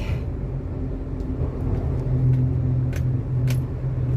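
Car interior while creeping through a traffic jam, a steady low engine and road rumble with a few faint clicks and rattles; no one speaking.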